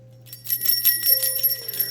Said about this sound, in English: I'm ringing these bells continuously anyway